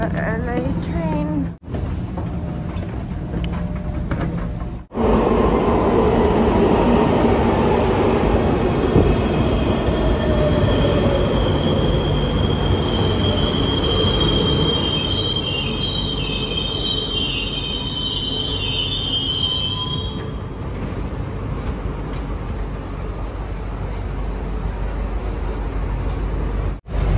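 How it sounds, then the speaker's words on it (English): A Los Angeles metro train rides along with a loud, continuous rumble, and high wheel squeal rises and fades over it. A sharp cut breaks the sound near the start. "Taking the LA train."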